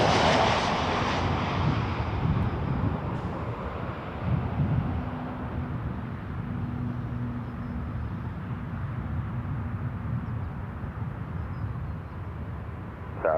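Jet airliner engines roar at Toronto Pearson Airport, a loud, steady broadband rumble with a rushing wash, held for several seconds with wind noise on the microphone.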